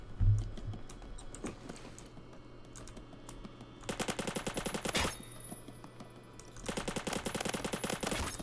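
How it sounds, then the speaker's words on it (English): Bursts of rapid automatic fire from a SCAR-L assault rifle in Phantom Forces, two long volleys of fast repeated shots with quieter clicking and game sounds between. "the Scar L has just such an iconic sound, and it just feels and sounds good to shoot"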